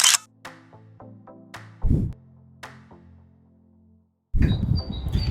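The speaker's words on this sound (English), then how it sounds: "time for a quick post-run solo selfie" A camera shutter clicks several times in quick, separate snaps for a solo selfie after a run, with short bursts of outdoor noise between them.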